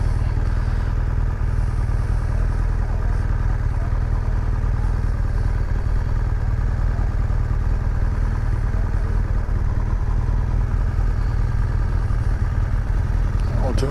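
Motorcycles on a coastal road, heard from a rider on a bike, make a steady, close engine drone and clatter under heavy wind rush throughout.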